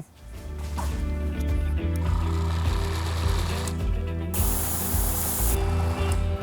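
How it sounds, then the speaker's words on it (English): An airbrush sprays Tamiya silver chrome paint onto a 3D-printed prop blaster part, a steady close hiss over a buzzing compressor hum, with a sharper, brighter spray burst near the end. "So let's fire up the old airbrush,"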